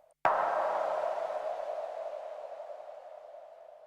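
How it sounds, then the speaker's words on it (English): A single sharp wooden percussive hit rings out into a long, washy reverb tail with a layer of noise, decaying slowly over several seconds. "some kind of wood block type percussion with a big reverb on it and a bit of noise layered in"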